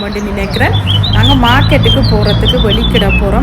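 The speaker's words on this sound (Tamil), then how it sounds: "இப்போ கூட இந்த பறவைகள சத்தம் அவ்வளோ ஒரு சத்தமாக கேட்டுக்கொண்டு உங்களுக்கும் காதில் விழுந்திருக்கும்" Birds chirp and whistle outdoors on a morning in France, bright overlapping calls close by while someone talks over them.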